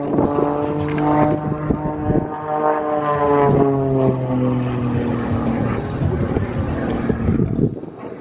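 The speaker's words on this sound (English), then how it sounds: "Fight that battle of that wind shear, as well as putting on an aerobatic demonstration." A propeller airplane flies an aerobatic demonstration at an air show, its engine droning loudly and steadily with shifting, rising and falling pitch through wind shear, while a voice talks over it.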